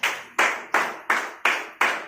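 Loud rhythmic clapping at a group meeting in Hasanpur, six sharp unison claps spaced evenly about a third of a second apart, each fading quickly, with no talk over them.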